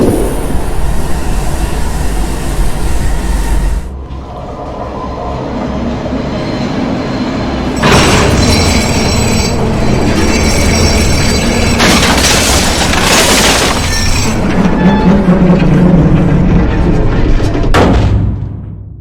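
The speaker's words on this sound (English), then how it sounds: "The train crashes and we enter chapter 6." A train crash in the horror video game Cry of Fear, with loud continuous rumbling and grinding of rail cars, heavy metallic bangs and crashes bursting out repeatedly, and a sudden cut to near silence at the end.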